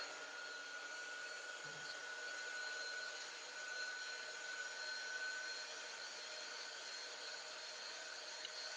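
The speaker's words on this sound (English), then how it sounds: "I'm going to turn the dryer on here for a little bit just to make sure it's dry" A dryer runs with a faint, steady whine and airy hiss while drying chalk paste, a constant motor tone with a single soft bump partway through and no talk.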